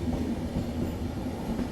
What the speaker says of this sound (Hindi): घाट सेक्शन के बाद अब अपना अराइवल हो रहा है कैसल रॉक रेलवे स्टेशन पे